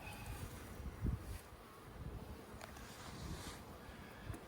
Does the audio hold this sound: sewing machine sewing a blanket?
no